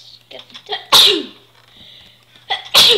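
A person sneezes sharply and loudly, once after brief mumbling and again a moment later, with quiet talk between the two sneezes.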